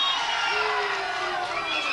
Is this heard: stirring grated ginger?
no